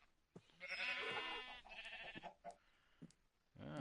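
Sheep in a farming video game bleat in drawn-out, wavering calls, several in a row at moderate loudness, with short gaps and a final bleat at the end.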